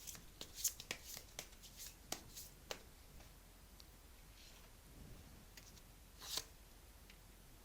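Tarot cards being shuffled and drawn for a reading: scattered crisp riffles and soft card slaps, a dozen or so brief bursts spread over several seconds, faint and close, with no talking.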